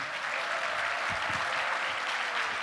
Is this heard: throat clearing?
no